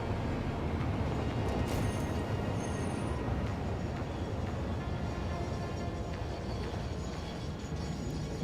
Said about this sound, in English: We're gonna drive this locomotive back